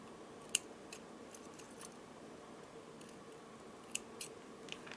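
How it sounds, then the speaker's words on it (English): Scissors snip through necklace thread just above a knot, giving a few sharp, close clicks over a quiet room hush. "Now let's cut the thread"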